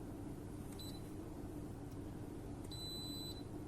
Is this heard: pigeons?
no